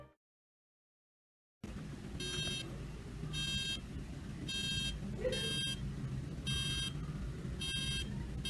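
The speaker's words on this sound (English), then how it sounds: "When it detects a loud noise, it will say please silence and ring alarm for 3 times." A homemade library noise detector sounds its alarm as six evenly spaced electronic beeps after a brief silence, over steady room hum.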